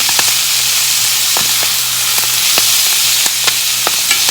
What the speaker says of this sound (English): All I'm doing is sauteing some collard greens that have already been cleaned and cut up, shredded, in a pan of extra virgin olive oil